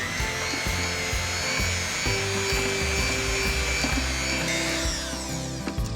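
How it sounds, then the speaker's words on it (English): An electric mixer beats room-temperature butter and sugar in a bowl, a steady close whirring motor hum with rattling beaters, running continuously for several seconds. "So I'm going to beat this with an electric mixer."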